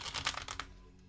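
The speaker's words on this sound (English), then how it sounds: "one more shuffle" Tarot cards being shuffled by hand, a quick burst of several soft riffling flicks close to the microphone that stops abruptly, followed by quiet.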